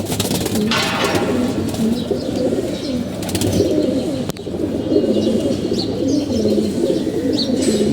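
Pigeons of an old bloodline coo in repeated soft, throaty rolls from close by, several birds overlapping, with a brief flutter of wings and faint chirps in the background.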